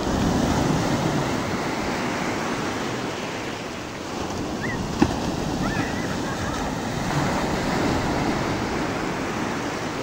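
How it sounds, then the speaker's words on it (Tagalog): Big waves roll and crash continuously at Bauang Beach, a broad roaring surf mixed with heavy wind buffeting the microphone, while faint voices sound in the background. "ang lalaki ng alon ha"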